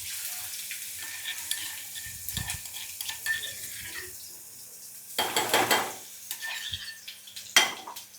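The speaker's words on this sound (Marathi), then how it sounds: "त्यामध्ये हा मिरचीचा ठेचा टाकून घेते." Crushed green chili thecha fries in a mustard-seed tempering, with bursts of sizzling hiss and spatter and scraping stirs against the pan, heard close and alone between quieter moments.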